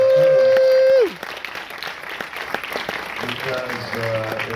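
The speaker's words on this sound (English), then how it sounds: "I think we should applaud them" Audience applause at a documentary film festival awards event, a steady spread of clapping that rises after a sustained tone cuts off, with a voice speaking over it.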